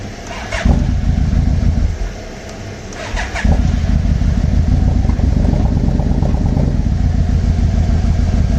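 A 1996 Yamaha Royal Star Tour Classic motorcycle engine, fed on poor fuel, runs rough in a garage, stumbling and dipping when throttled before catching again in a steady loud idle close by.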